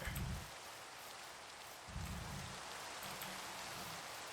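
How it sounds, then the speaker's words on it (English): Rain falls in the video game Minecraft, a soft, steady hiss of drops heard faintly and continuously, with a low rumble coming and going underneath. "I wish it'd stop raining."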